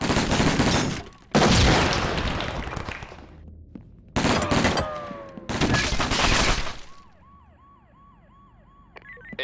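Heavy automatic gunfire in the tactical shooter SWAT 4 during a friendly-fire incident: two long, loud, close bursts of rapid shots with a gap between them, followed by a wailing siren.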